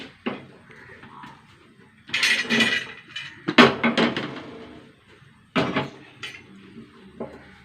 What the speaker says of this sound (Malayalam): ചട്ടി എടുത്തേക്കട്ടെ